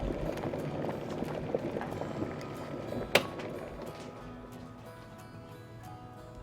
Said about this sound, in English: the water is definitely heating up